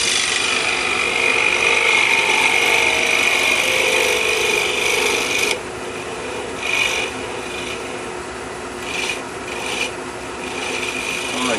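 Steady rasping scrape of a hand tool on cheap, rough lumber while shaping a mushroom-style birdhouse cap, loud and continuous at first, then lighter with short intermittent strokes.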